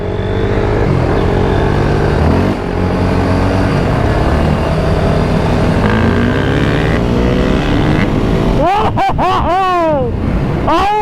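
Honda CRF 250R dirt bike riding nearby, its engine droning loudly and steadily before sharp revving bursts rise and fall near the end.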